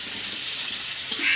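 Potatoes frying in a pan in a home kitchen, cooked for a Bengali lunch, give a steady, close hiss of oil sizzling throughout with a faint clink near the end.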